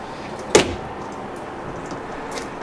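A single sharp thud as a thick, heavy RV trailer door is handled, likely closing, followed by quiet room tone and a faint second knock near the end.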